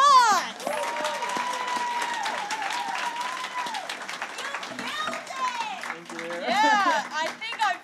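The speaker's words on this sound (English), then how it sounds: "Let's get another round of applause!" Audience claps and cheers at an open mic night in a music club, with loud whooping and hollering voices over scattered clapping throughout.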